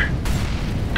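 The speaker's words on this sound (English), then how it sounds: "Throwing a flashbang." Flashbang grenade detonating in the game CS:GO on the map de_nuke, a single loud close boom with a dense low rumble lasting about a second, followed by a brief ringing tail.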